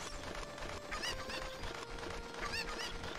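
Chickens cluck in The Legend of Zelda: Ocarina of Time Master Quest in Kakariko Village; two short chirpy bursts of clucking rise over steady game music and ambience.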